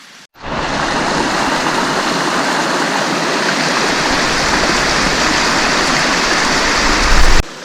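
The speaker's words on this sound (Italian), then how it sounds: "Qui siamo alla confluenza dei due torrenti, il Vajont e il Flunio." Steady, dense rush of the Vajont and Flunio mountain torrents meeting at their confluence, a loud continuous roar of churning water with no voices, close by and unbroken throughout.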